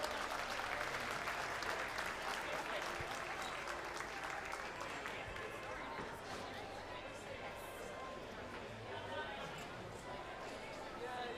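An audience at a sheep shearing and wool handling show at Balmoral Show applauds steadily and loudly throughout, a continuous wash of clapping with crowd chatter mixed in.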